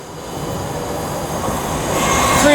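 Avanti West Coast train 39043 passes through Stafford station on the West Coast Main Line, running late, a loud, close rumble of wheels and rail noise that swells steadily, with a faint high squeal near the end.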